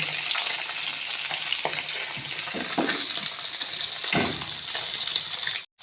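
Onions sizzle steadily in a pan with oil, a close, continuous frying hiss broken by a few soft scraping stirs, with no talking.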